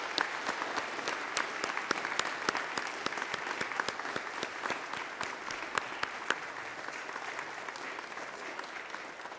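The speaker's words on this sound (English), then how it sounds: "I would like to have a round of applause for Mr. Chen Studi." An audience at a school music festival gives a round of applause, steady brisk clapping from many hands that carries on evenly throughout at a fairly soft level.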